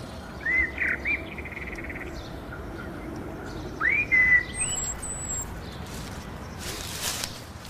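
Common blackbird singing outdoors, a few short fluty phrases with pauses between them, fairly close over a steady hiss of background ambience.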